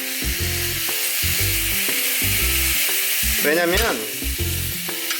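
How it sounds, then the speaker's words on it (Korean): Pork for gochujang jeyuk bokkeum hits a thick, well-heated pan at a camp cookout, giving a loud, continuous sizzle with stirring scrapes, while a voice speaks briefly over it. "충분히 달궈진 상태에서 고기를 넣어주세요."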